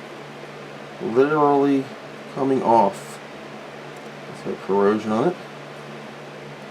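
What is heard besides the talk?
electric fan running during Amiga 3000 repair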